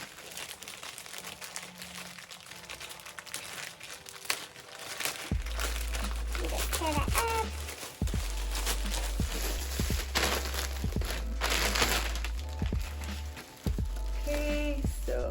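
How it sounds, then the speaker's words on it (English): A plastic mailing bag holding a boxless designer-style handbag is torn and opened, giving a long run of close crinkling and crumpling with sharp tearing bursts and rustles, loud and busy without speech. "It didn't come in a box, it just came in this plastic bag right here. So I'm gonna go ahead and open it here for you guys."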